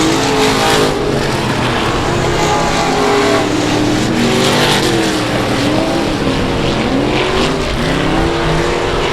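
Race cars roar around the oval at South Texas Speedway, a loud, continuous wash of engines with pitches rising and falling as cars pass close by, no speech over it.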